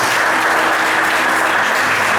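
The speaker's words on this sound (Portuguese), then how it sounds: "Vamos aplaudir a palavra do Senhor, queridos." A church congregation applauds together, a dense, loud and steady wash of clapping that fills the whole moment without any talk.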